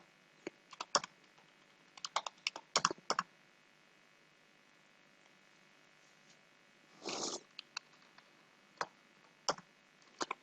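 Keys tapped on a computer keyboard to enter a login password, quiet clustered clicks in short bursts with pauses, plus one longer rustling burst midway, close and faint in a quiet room.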